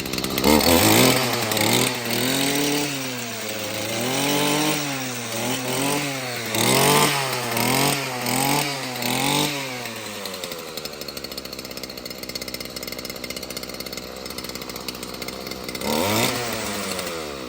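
A Stihl FS55 string trimmer's small two-stroke engine is revved up and down in a quick repeated rhythm, then drops back to a rough idle before one last rev, heard close and loud.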